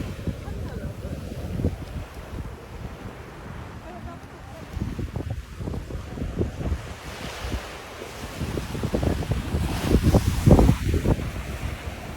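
Seaside wind and ocean surf along the 17-Mile Drive coast: a steady, rough rumble of wind buffeting the microphone over washing waves, swelling louder toward the end.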